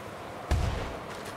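A single gunshot in the video game Bigfoot fires about midway as a sharp, low thump with a short decaying tail, with a fainter pop trailing behind it over a quiet background.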